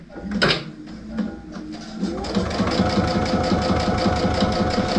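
A sewing machine stitches fabric for a placemat, first a few short bursts, then a steady rapid mechanical rhythm running close and clear to the end.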